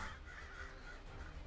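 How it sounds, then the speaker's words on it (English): Birds caw in ArcheAge, brief and faint against a soft, muffled background. "Ow! Stupid birds."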